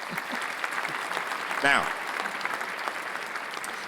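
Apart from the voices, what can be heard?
audience applause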